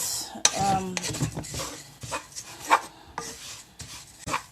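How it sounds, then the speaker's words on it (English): Oat bar mixture is stirred in a bowl before butter is added, producing close scraping, rubbing strokes of a utensil against the bowl in irregular bursts with a few light knocks. "Before adding my butter, I just like to give this a good mix."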